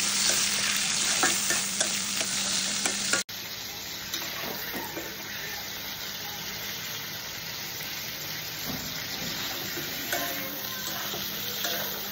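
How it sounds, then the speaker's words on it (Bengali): Shrimp frying in a pan, with a steady sizzle and repeated scraping stirs close by. Midway it cuts to a quieter, continuous hiss. "ফাইনালি আমি হচ্ছে চিংড়ি মাছগুলো এখন একটু ভেজে নিচ্ছি"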